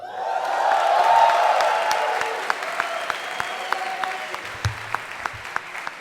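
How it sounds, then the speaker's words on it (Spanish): An audience at a guitar clinic for guitarist Jake Bowen applauds with scattered whoops, the clapping swelling early and then thinning into sparse, separate claps. "Que se sienta mucho más fuerte el aplauso para Jake Bowen"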